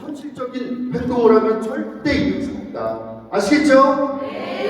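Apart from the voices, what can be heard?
No everyday noises stand out.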